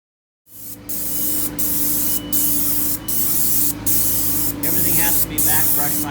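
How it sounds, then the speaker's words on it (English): Stain spraying from a sprayer onto a large log pavilion, a loud continuous airy hiss broken into regular bursts about every second, with a constant machine hum underneath. "We're putting the first coat of spray on."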